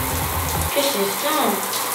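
Water hissing from a shower in a home bathroom, a steady broadband spray preceded by a brief low rumble, with a voice speaking faintly over the running water.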